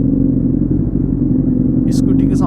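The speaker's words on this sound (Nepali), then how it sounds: "स्कुटीको साउन्ड हो यार, कत्रो ठुलो आउँछ हौ यस स्कुटी।" A CF Moto motorcycle engine runs steadily and close, a loud low rumble that holds even throughout, with a short burst of higher noise near the end.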